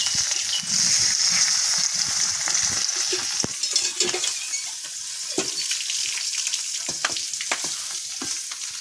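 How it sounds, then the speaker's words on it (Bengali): Katla fish pieces fry in mustard oil with a steady, close sizzle and crackle, joined by occasional clinks and scrapes as they are stirred or turned in the pan. "আবার একটু সর্ষের তেল দিয়ে নিয়েছি। দিয়ে নিয়ে মাছগুলো দিয়ে দেবো।"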